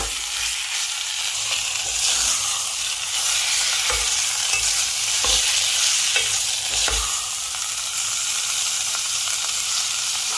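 Nam ngiao chili paste stir-fried with minced pork, a continuous loud sizzle with repeated spatula scrapes and taps against the pan, close and without speech.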